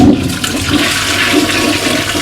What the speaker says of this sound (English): I'm going to give it another plunge